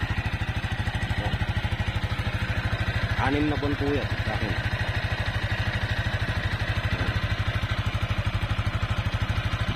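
Yamaha Sniper 155 motorcycle, six months old, idling with a steady, even rapid thrum close by, while someone talks over the engine.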